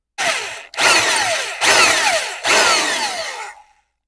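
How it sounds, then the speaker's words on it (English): A power drill works out a stripped fork leg slider on a 1989 Harley-Davidson Evo Softail in four loud, close bursts of whining, grinding drilling, with short gaps between them before it winds down. "So now we're just going to hit it with a drill, hopefully just a few more times, and this thing will pop free."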